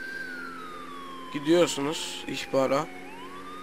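Police car siren in GTA 5 heard from inside the vehicle, a steady wailing tone sweeping slowly down in pitch and then up again, running continuously under a man's short bursts of speech.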